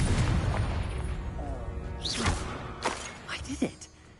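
A Confringo blasting spell explodes in a Harry Potter video game, a loud burst with crackling debris over a dense rumbling bed, followed by a few sharper pops and whooshes fading toward the end.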